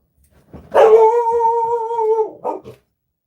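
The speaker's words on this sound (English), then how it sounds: "Do you mind not barking for the stream, please?" A single dog gives a long, drawn-out howling bark close by, followed by a brief shorter yelp.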